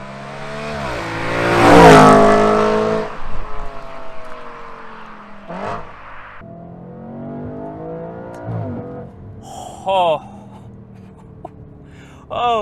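A 2013 Audi RS5 with a naturally aspirated V8 revs hard in a loud rising surge, then drops away into shorter blips and gear changes, with brief excited exclamations.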